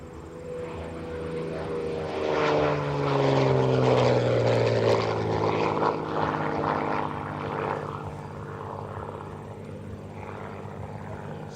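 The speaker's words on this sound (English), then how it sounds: "Six-cylinder cranking out all kinds of horsepower on this airplane" A SIAI-Marchetti SF.260 with a 260-horsepower six-cylinder engine passes at an air show, its propeller drone swelling to a loud, pitch-shifting roar around the midpoint and then easing back to a steady hum.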